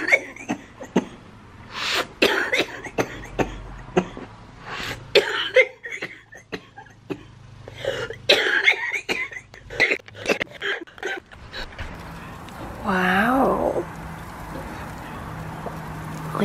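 Repeated sharp coughs and throat-clearing bursts, close and irregular, followed by a strained, wavering vocal sound near the end.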